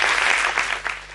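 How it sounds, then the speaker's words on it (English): Brief applause at a panel event on circular fashion, a room of people clapping for about a second, fairly soft and tapering off. "applause for you."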